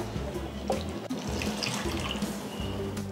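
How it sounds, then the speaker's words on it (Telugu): Water poured into a thick onion gravy for jeera rice, a steady close gush and splash lasting the whole stretch with no talk. "ఇంకా కొన్ని వాటర్ వేసుకుందాం."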